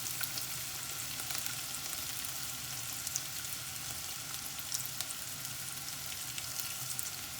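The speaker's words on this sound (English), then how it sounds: "I'm adding my locust beans. and I'm going to fry it." Locust beans fry in ofada sauce with an even, dense sizzle and crackle, close and unbroken for the whole stretch, with no voices.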